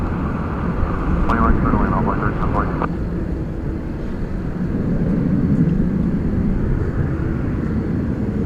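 Two American Airlines wide-body jets pushed back from the terminal at DFW Airport, a steady engine rumble that stays at one level throughout, with a short bird-like chirp partway through.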